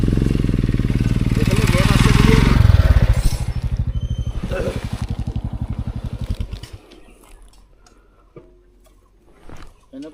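A motorcycle engine idles loudly close by with a steady rapid thrum that fades out after about seven seconds, followed by quieter outdoor sounds; people talk over it.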